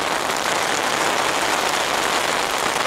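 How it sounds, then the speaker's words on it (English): Rain falling at a carp-fishing peg beside floodwater makes a continuous, even hiss of dense drops. The patter is close and fairly loud, with no voices heard. "And the rain is coming on a bit stronger now."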